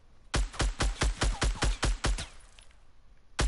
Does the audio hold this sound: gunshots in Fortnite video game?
yes